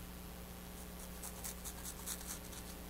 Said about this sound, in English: I'm going to take a sharp hobby knife.